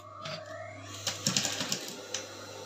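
A sewing machine stitching a fabric loop on a basket bubu kaftan, giving a short quick run of rapid mechanical needle taps, faint and close, over a low steady hum.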